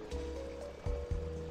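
Crops being watered from a watering can in the video game Harvest Moon Magical Melody: a brief steady splash and pour of water with a low hum, alone and fairly close.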